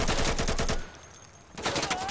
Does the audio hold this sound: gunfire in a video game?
yes